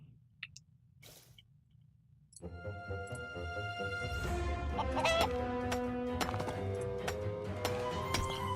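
A chicken clucks in the Minecraft video game, short clucks over a busy backdrop of sustained tonal game music that swells in after a quieter opening with brief scattered sounds.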